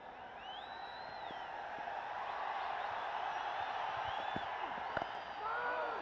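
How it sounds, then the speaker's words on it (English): A large crowd of Nepalese fans at a Nepal versus Netherlands T20 cricket match roars continuously, a dense distant wash of cheering with whoops and whistles rising through it, under a commentator's voice. "Listen to the roar in the crowd."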